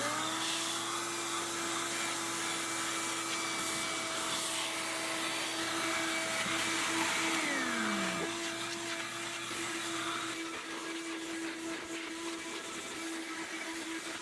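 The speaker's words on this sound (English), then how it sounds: "I find the suction power of my new Ridgid vacuum to be incredible." A Ridgid shop vacuum runs steadily on a car's carpet, a loud continuous motor whine with a brief pitch dip partway through, heard alone without talk.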